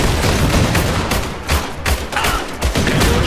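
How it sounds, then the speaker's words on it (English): Gunfire in the strategy game Iron Harvest: loud, dense volleys of rifle and machine-gun shots crackling continuously in a battle, without speech. "They're shooting at us!"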